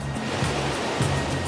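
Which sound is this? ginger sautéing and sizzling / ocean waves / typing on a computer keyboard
ocean waves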